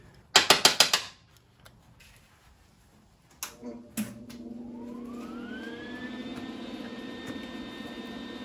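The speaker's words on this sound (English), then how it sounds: "Here's my ratchet." Quick burst of ratchet clicks close up during work on a Locost 7 home-built car's rear suspension, then a couple of knocks and a rising mechanical whine that settles into a steady drone.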